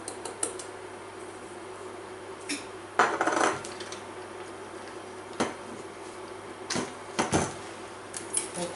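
Egg yolks whisked with sugar in a bowl, heard as quiet scattered clinks and taps of a whisk against the bowl with brief louder knocks.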